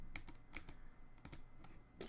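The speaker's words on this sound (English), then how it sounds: "I can type that out." Quick bursts of typing on a computer keyboard, several crisp key clicks in uneven clusters, close and fairly quiet against a soft background.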